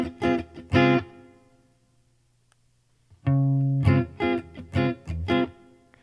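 Clean electric guitar through a Boss RC-600 natural clean preamp with the speaker type switched off, bright plucked chords in two short bursts separated by a quiet sustained tail.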